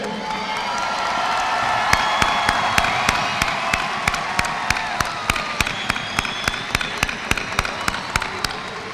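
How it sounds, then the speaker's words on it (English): A crowd applauds graduates at a high school graduation ceremony with rapid, steady clapping that holds for several seconds, loud and nearby with a murmur underneath. "Let's give another big round of applause for all our graduates."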